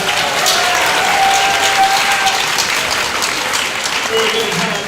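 An audience claps steadily for a judge being introduced at a Grades 11 and 12 spoken word event, a dense, even roar of applause lasting throughout with a few faint cheers mixed in.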